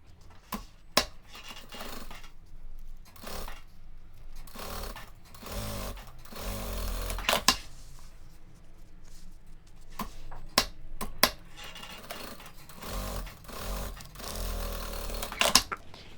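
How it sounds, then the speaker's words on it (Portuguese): A sewing machine stitches close to zipper teeth while a cube-shaped zippered toiletry bag is made, giving a steady soft mechanical whir across the whole stretch, broken by sharp clicks and taps, with no talk. "Vem aqui e passa a costura próxima ao dentinho."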